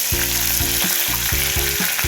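Crushed curry leaves hit hot oil in a tempering for a ridge gourd, tomato and peanut curry, giving a loud, close, steady sizzle with short bursts and brief dips, with no talking.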